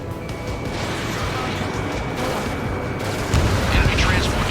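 An enemy transport blowing up in the jet combat game Ace Combat 7, a dense rumbling blast that swells louder near the end over continuous engine roar, with radio chatter mixed in.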